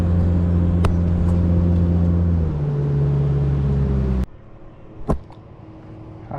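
A fishing boat motor idling across a channel: a steady low engine drone that shifts pitch slightly, then drops sharply to a quieter hum, with a couple of brief knocks.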